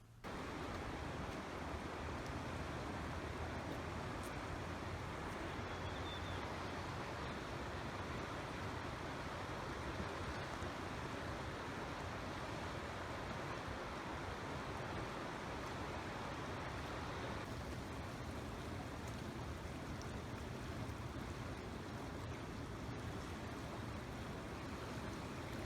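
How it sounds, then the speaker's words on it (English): River water flows steadily near a footbridge in the Canadian Rockies, a dense, even rushing wash that holds constant and fairly faint throughout, with no voices. "I will leave the original audio, as it is calming to hear the water flow."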